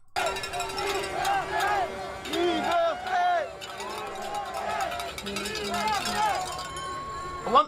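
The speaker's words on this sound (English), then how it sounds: "We got the French chanting going on here." A protest crowd from the trucker convoy in Ottawa chants in French, with rhythmic voices and shouts rising and falling over a busy outdoor hubbub, heard from close range.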